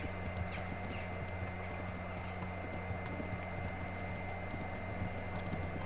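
Horse hooves clip-clop in a steady galloping rhythm within the Kingdom Come: Deliverance video game, moderately loud over a constant low hum of game ambience.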